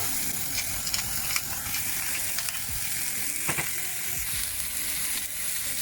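Food sautés in a pan over high heat, a continuous loud, dense sizzle with hissing steam and occasional clicks and scrapes from stirring, close up and with no one speaking.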